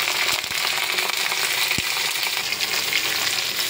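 Garlic and green chilies fry in hot oil in a pan, giving a dense, continuous sizzle with a few soft knocks as the pan is stirred, all fairly close with no talking.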